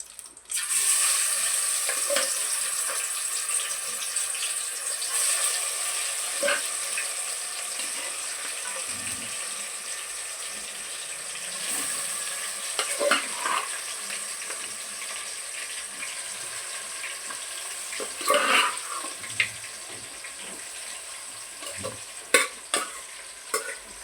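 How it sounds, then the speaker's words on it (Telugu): Marinated chicken hits hot frying oil for chicken fried biryani, giving a strong, steady sizzle with occasional stirring clatter and knocks, no voices. "కాగిపోయింది కాబట్టి ఇదిగోండి నేను కలిపి పెట్టుకున్న చికెన్ వేసుకుంటున్నానండి ఇందులో"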